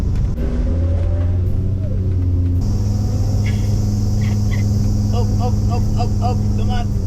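A camper van's engine labours up a steep hill in Japan, a loud steady drone with low rumble throughout, while people talk over it.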